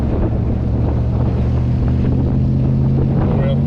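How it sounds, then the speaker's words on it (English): Austin Healey 3000 fitted with a V8, accelerating in fourth gear: a loud, steady, close engine drone with deep rumbling harmonics, mixed with constant wind rush throughout. "We're in fourth gear, accelerating."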